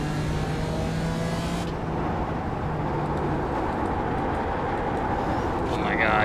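GT4 race car engine in a racing video game, a steady droning engine note held at moderate level with a brief tonal shift early on, under occasional talk.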